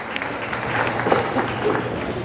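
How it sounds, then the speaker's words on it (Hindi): A seated crowd claps at a student honors ceremony in a hall in Guna, a soft, even wash of applause with faint voices mixed underneath. "अपने स्थान पर बैठकर तालियां बजाएं जोरदार"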